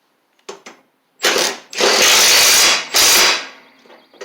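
A lawn mower blade bolt is tightened with a ratchet, heard as short clicking bursts and then longer steady ratcheting runs, close and fairly loud with no talk.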